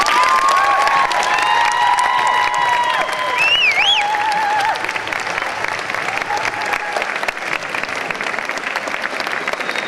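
An assembly audience applauds a state-championship cross country team with loud, steady clapping and a few whoops and shouts throughout, fading slightly toward the end.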